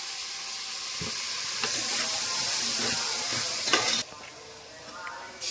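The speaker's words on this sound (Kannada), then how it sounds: "ಇವಾಗ ತರಕಾರಿ ಫ್ರೈ ಆಗಿದ ನಂತರ ಖಾರ ಪುಡಿ ಹಾಕೋತಿದ್ದಾಳೆ" Vegetables fry in a pan after chili powder is added, giving a steady close sizzle broken by several clinking stirs of a spoon, with the hiss dropping lower near the end.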